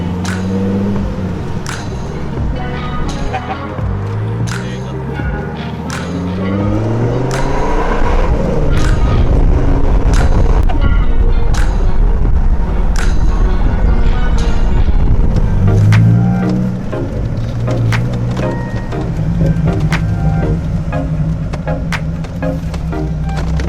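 A 2001 Dodge Viper sports car's engine rumbles loudly and steadily throughout while driving, with rising and falling tones as it revs and shifts, sustained and close with no talking.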